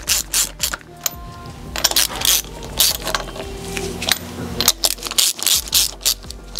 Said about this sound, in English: we're gonna run our nuts all the way down snug